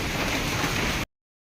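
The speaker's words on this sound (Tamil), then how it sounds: "சரியான மழை." Heavy rain pours down outdoors as a dense, loud, steady hiss of broadband noise lasting about a second before cutting off abruptly to silence.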